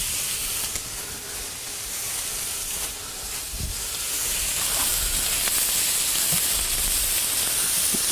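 Sausage browning in a pan gives a loud, steady sizzle and hiss that carries unbroken throughout, with occasional pops and scrapes beneath it.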